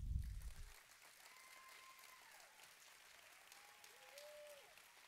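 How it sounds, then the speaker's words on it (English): Applause from an audience at a kindergarten graduation ceremony at a Christian school, a steady sustained patter of many hands after a loud opening burst, with faint tonal sounds drifting over it. "Please give them a round of applause."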